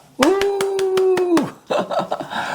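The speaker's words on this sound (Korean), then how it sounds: "박수 한번 칠까요?" Audience at a sex-education lecture claps in a quick run of sharp hand claps beneath a long sustained vocal tone, followed by a looser burst of scattered applause and murmuring.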